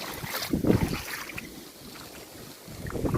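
Strong wind driving heavy rain during Cyclone Biparjoy in Mandvi, a loud roaring broadband rush that swells in gusts at the start and again at the end, with no voices.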